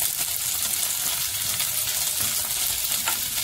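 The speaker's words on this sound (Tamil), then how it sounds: "சேர்த்து நல்லா அதே மாதிரி கொஞ்சம் பொரிய விடுவோம்" Masala powder with salt and curry leaves frying in oil in a pan, a steady close sizzle with light crackle throughout and no talk.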